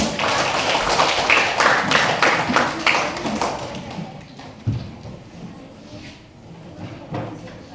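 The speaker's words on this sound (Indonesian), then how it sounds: "Tepuk tangan untuk kita." A group claps hands in applause, a burst of loud, rapid, overlapping claps for about four seconds before fading into scattered taps and quiet room noise.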